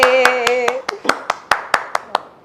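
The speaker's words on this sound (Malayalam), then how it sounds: "കൈയടിക്ക്." A small group clapping hands at a live ring-giving marriage proposal, producing about a dozen sharp, evenly spaced claps close by. A voice talks or hums under the first claps.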